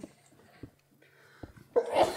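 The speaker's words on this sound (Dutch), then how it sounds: "want er wordt heel hard geniest hier" One loud sneeze bursts out near the end, preceded by short breathy sounds and faint background noise during an indoor livestream.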